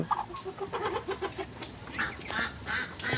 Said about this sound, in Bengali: এই যে আমার চিনে হাঁসের বাচ্চাগুলো সব বসে আছে